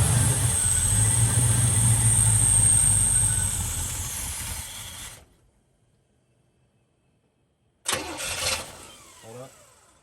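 Big block Trans Am engine with a Quadrajet carburetor idling loud and close with a deep rumble, then cut off into silence before a brief restart burst near the end.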